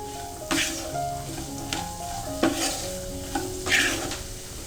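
A spoon stirs salt into vermicelli upma in a pan, with a soft, continuous sizzle and several distinct scraping strokes against the metal at irregular intervals, with no voices.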